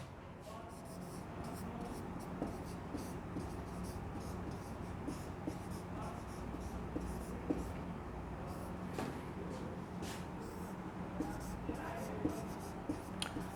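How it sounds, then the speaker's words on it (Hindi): Steady scratchy strokes of writing on a board continue throughout, with short taps and scrapes, and a faint voice in the background. "इसको मैं लिख के बता दे रहा हूं"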